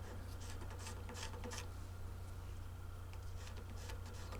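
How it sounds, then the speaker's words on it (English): 600 grit free cut sandpaper rubs across the headstock of a '58 Martin guitar in short, soft scratchy strokes, faint and close over a low steady hum. "I'll go over the whole area with the 600 grit free cut sandpaper."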